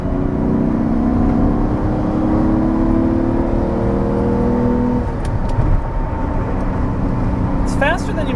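A Lamborghini Diablo VT Roadster, a 1990s supercar, accelerates on the road with a steady, loud engine drone and whir that shifts in pitch partway through, rising as it builds speed.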